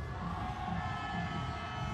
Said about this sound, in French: Merci d'applaudir le numéro 1 gardien de but